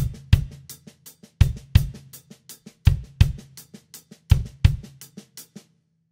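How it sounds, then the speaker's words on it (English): Drum groove for a verse of a song: steady kick drum hits under rapid hi-hat strokes and soft snare ghost notes, forming a shaker-like pulse, played alone and close. "Just put the kick drum in with that shaker effect that we're creating by the hi-hat and the ghost notes on the snare."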